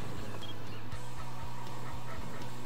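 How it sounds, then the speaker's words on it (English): Egyptian geese near Lake Manyara give a series of loud, repeated, rhythmic honks close by, roughly two per second, over a busy outdoor background with no talk. "Egyptian geese"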